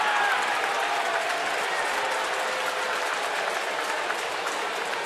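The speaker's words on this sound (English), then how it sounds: "the Bronx cheer here at Camden Yards" Baseball crowd booing at Camden Yards, a broad, sustained roar of disapproval from a large stadium audience, steady and somewhat distant, with no clear talk over it.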